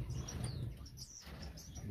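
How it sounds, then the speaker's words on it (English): Soft, sparse chirps from an Indian silverbill in a nest box, faint and close over a low background murmur. "Indian silverbill."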